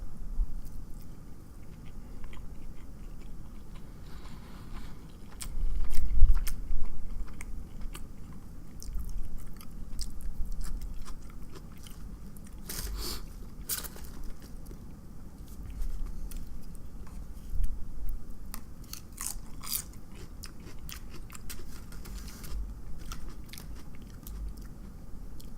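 Close-up chewing and biting of sushi and tempura fills the clip, with crunchy bites, wet squishy mastication and occasional crackles repeating irregularly throughout, loud and intimate with no talking.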